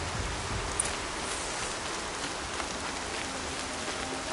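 Steady rain falls in the video game Horizon Zero Dawn, a soft, even hiss of drops that holds unchanged throughout with no voices.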